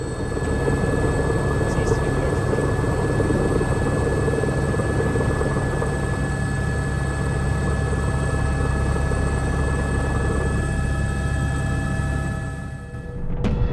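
Helicopter cabin noise during a descent, rotor blades beating in a dense steady drone with a faint high whine throughout, fading at the very end; no voices.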